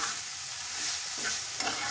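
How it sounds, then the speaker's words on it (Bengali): Fried small river fish being stirred into a pan of gourd greens, a close, steady scraping stir over a soft sizzle, with no talk. "এখন এখানে আমি দিয়ে দিচ্ছি ভাজা মাছ। সেই ভেজে রাখা মাছগুলো দিয়ে দিচ্ছি।"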